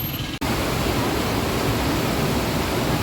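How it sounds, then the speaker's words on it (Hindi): Water rushing loudly through the open gates of the Karnali barrage on the Karnali River in Nepal, a steady, dense roar that fills the scene without letup after a brief dip at the start. "ज़बरदस्त पानी चलता है यहाँ पर,"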